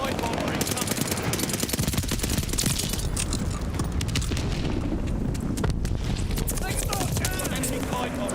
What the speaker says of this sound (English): They're throwing contact grenades at me now